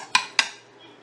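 A spoon scrapes and taps twice against baking dishes while a beef and bean mixture is layered in for a Southwestern beef bake; two sharp clinks ring out close by, then fade.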